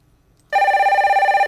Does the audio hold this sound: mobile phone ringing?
yes